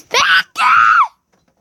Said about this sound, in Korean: 저번에도 그렇고 이렇게 소리를 지르세요